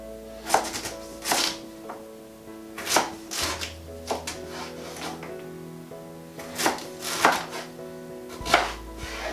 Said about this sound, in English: then cut them in slices this way